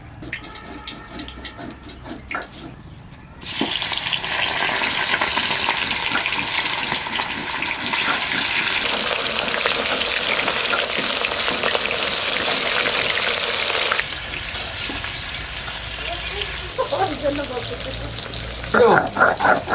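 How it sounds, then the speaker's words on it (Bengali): Katla fish pieces frying in white oil, a loud steady sizzle that starts abruptly after a few quiet seconds, continues strongly, then eases a little with stirring clatter near the end. "এবার মাছ কটা ভাজবো সাদা তেল রান্নাটা আজকে সাদা তেলেই হবে"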